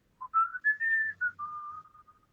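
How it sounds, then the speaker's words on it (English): A woman whistles a short, happy tune alone, a clear, close melody of several sliding pure notes rising and then settling lower before fading. "whistling to herself a happy tune"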